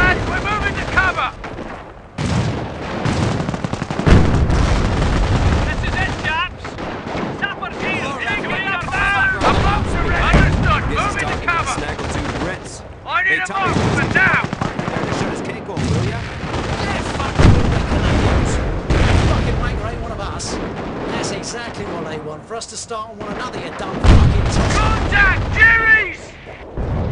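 Gunfire and explosions in the WWII strategy game Company of Heroes: Opposing Fronts, rattling machine-gun bursts and rifle shots mixed with booms through a long, loud battle, with soldiers' voices shouting orders over the din.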